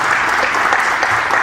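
An audience applauding at the close of a Spanish-language academic conversation event, a dense, loud, steady wash of clapping filling the whole short moment.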